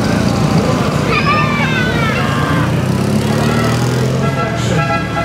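A motorcycle engine runs at an outdoor picnic, its droning pitch rising and falling close by, with people talking over it and crowd noise around.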